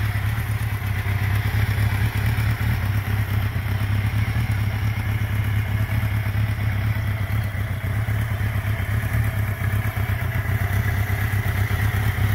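A 1982 Suzuki GS650E motorcycle engine running steadily at idle, a close, even mechanical clatter and throb that holds constant throughout with no one talking.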